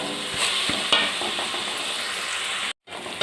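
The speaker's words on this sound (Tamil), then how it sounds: "பாருங்க, தக்காளி நல்லா மசிஞ்சு நல்லா வதங்கிடுச்சு" Tomatoes sautéing for a yellow pumpkin kootu, a close, steady sizzle with light knocks and scrapes from stirring and a sudden short silent gap near the end, no talking.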